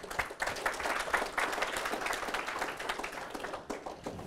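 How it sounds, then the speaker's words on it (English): An audience claps through a round of applause at a lightning talk in Raleigh, a dense, steady patter of many hands at moderate level from start to finish. "So just round of applause."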